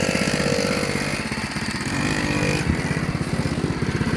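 A motorcycle engine starting up and running, loud and close, with a steady, rapid pulsing rumble that sputters briefly in the middle before settling into a rhythmic idle.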